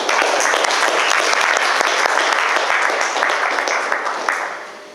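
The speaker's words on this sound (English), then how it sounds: "let's give them a round of applause" An audience at a Startup Grind talk breaks into a round of applause, dense and steady clapping from many hands that holds for several seconds before fading away at the end.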